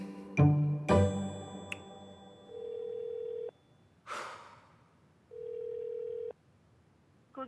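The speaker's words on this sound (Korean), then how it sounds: "고객이 전화를 받지 않아 삐 소리." A telephone call goes unanswered: after a couple of sharp clicks, two long, steady ringback tones sound with a pause between them, plus a short breathy rush. The setting is otherwise quiet.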